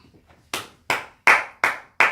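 Five sharp, loud hand claps ring out one after another at a brisk, slightly uneven pace during a church sermon, each a crisp smack with a short decay and no voices between.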